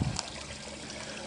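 Water from PVC pipe trickling into a koi pond filter reservoir: a soft, steady, close babble of running water with a brief low knock at the start, no talk.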